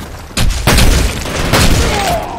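A grenade explosion in the video game Broken City, a loud booming blast followed by further heavy rumbling bursts that fill the space with dense, sustained noise.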